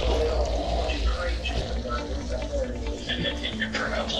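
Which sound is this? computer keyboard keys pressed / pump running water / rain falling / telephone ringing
pump running water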